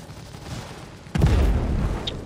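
Ship ballistic cannon fire in Star Citizen, a sudden heavy boom bursting in after quieter rumbling, followed by sustained loud rumble and a faint high blip.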